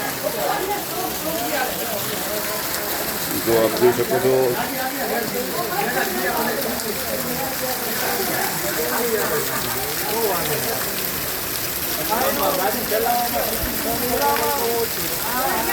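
Heavy afternoon downpour in Wankaner drums steadily on surfaces in a dense, continuous hiss, while someone talks over it throughout.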